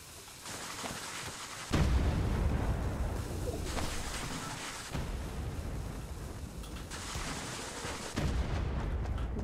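Heavy booming blasts from thrown dynamite in a video game, several long roaring explosions one after another with low rumbling tails, loud and continuous without talk.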